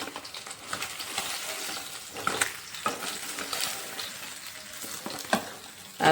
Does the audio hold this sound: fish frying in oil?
yes